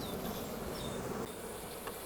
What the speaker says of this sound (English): You can see the bees are starting to get a bit upset now.